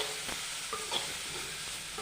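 Beetroot sautéing in a pan hisses with a soft, steady sizzle while a spoon scrapes and stirs in a few light strokes; quiet and close, with no talking.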